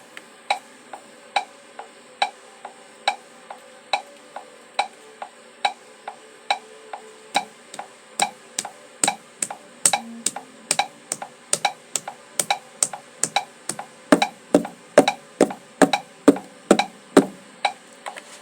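Steady metronome clicks at 70 BPM, alone; partway through, the pulse doubles into eighth-note clicks that grow louder toward the end.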